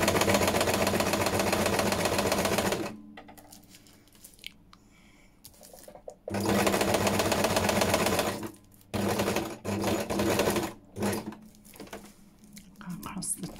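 A sewing machine stitches fabric for a junk journal cover topper, running in steady loud bursts of rapid stitching with short pauses between them.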